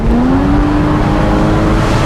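A Porsche Boxster GTS engine pulls hard under acceleration, a loud, close, steady drone with a rising tone, heard alone over continuous road rumble.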